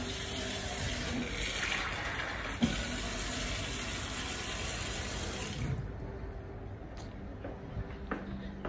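Water pours steadily from a tap for cooking, a continuous close rushing stream that tapers off near the end, with no one speaking.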